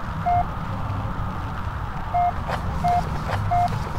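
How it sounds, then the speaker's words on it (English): Short, evenly pitched electronic beeps from radio speakers in the video game Penumbra: Overture sound a few times at irregular intervals over a steady low hum. "The beeping is coming from the speakers."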